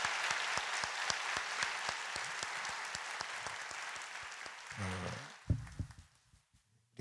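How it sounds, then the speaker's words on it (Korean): Church congregation applauding at a teacher appointment service, steady sustained clapping from many hands filling the room, then tapering off with a few scattered claps and some voices at the end. "여러분 다시 한번 크게 박수로 감사를 표하십시오."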